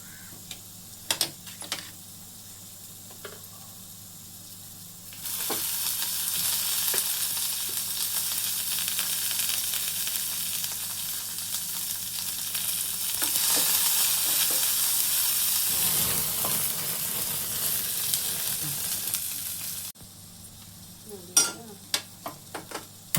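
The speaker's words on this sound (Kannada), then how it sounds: "ಜೀರಿಗೆ ಬೆಳ್ಳುಳ್ಳಿ ಹುರ್ಕೊಂಡು ಈಗ ಹಸಿಮೆಣಸಿನ್ಕಾಯಿ ಹುರ್ಕೊಳ್ತೀನಿ." Green chillies dropped into hot oil with cumin and garlic, a loud steady sizzle starting suddenly and holding for about fifteen seconds with occasional stirring clatter, then cutting off to quiet kitchen taps.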